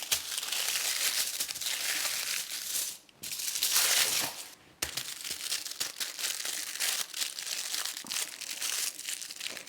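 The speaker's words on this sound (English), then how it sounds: "we're just going to pop it in some tin foil" Tin foil crinkles and crumples loudly as shrimp paste is wrapped up in it for a curry, continuous close rustling with a couple of brief pauses.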